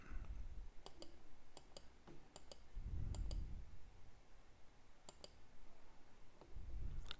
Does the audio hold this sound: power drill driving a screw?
no